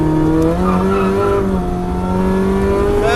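A car accelerating at full throttle on the Cadwell Park circuit during a track day, its engine note loud and close and climbing in pitch through a gear with a steady, strained roar.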